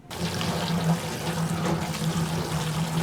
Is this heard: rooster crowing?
no